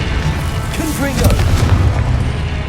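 A Confringo blasting spell goes off in Hogwarts Legacy with a loud, booming burst that rolls on in a dense roar, with a voice shouting a spell over the top.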